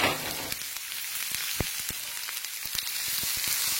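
Three pieces of garlic fry in a pan with a steady, dense sizzle and scattered small pops and crackles, close and alone, no talk.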